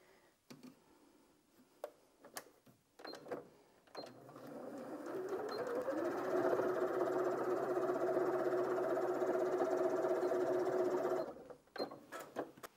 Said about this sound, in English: And that's sewn through that, no problem at all.